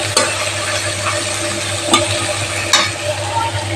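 Small fish curry is stirred in a pan with a steady low sizzle, and a few sharp utensil scrapes come through clearly amid the continuous cooking noise.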